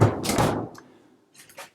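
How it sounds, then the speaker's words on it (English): The large pull-out drawer freezer in the kitchen of a 2017 Vengeance 38D12 Touring toy hauler fifth-wheel RV slides shut with a close, loud rolling thunk, followed by a couple of faint light clicks. "underneath is the very large pull-out drawer freezer"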